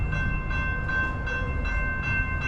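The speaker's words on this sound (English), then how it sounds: "And got the train right there." A train rumbles steadily nearby in Decatur with a sustained tonal whine or horn-like drone, the sound rising and falling in a rhythmic pulse.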